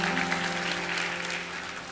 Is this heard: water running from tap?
no